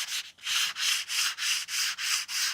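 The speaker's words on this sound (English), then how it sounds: "So we're just gonna take this and just lightly sand." Light hand sanding across a journal surface, rhythmic back-and-forth strokes repeating about seven times in steady succession, close and clear with no talk.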